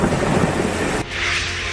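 Heavy rain pours steadily as thunder rumbles during Cyclone Biparjoy in Rajasthan, a dense, loud broadband roar that cuts abruptly to a hissing downpour partway through.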